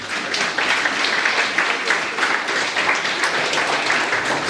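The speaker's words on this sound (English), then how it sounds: "So give yourselves a round of applause," A crowd at a memorial celebration of life claps in steady, dense applause that fills the room from start to finish, with no pauses and no clear voices over it.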